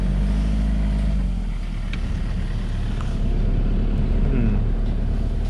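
A safari vehicle rumbles along at low speed, a steady close engine drone with faint creaks and knocks over rough ground.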